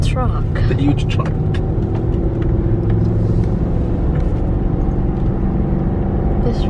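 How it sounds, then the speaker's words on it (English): A huge truck rumbles past on a road at night, with low, heavy engine noise holding steady throughout while people talk over it. "The truck. The huge truck."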